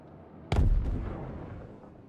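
A single heavy ballistic shotgun blast in the video game Star Citizen, a loud booming shot that decays into a long rumbling tail; no talk.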